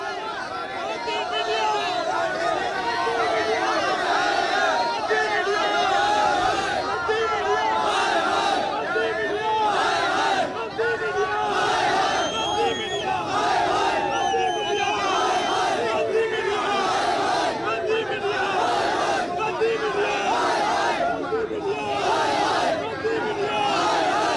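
A large crowd of farmers gathers at a Kisan Mahapanchayat, a dense, continuous roar of many voices with shouts and chatter sustained throughout, loud and close outdoors.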